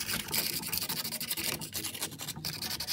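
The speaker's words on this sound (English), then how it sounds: "So first things first, give your prop a quick scuff." A propeller is scuffed with abrasive before painting, giving continuous rough rasping strokes in a quick back-and-forth rhythm, close and fairly loud.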